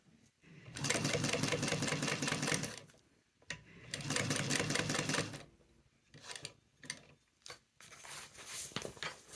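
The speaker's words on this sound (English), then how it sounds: "just until you can get in the first 4 or 5 stitches and backstitch" Sewing machine stitching a tote bag in two long, fast bursts of rapid mechanical clatter, followed by short stop-start bursts as the stitching is paused and resumed.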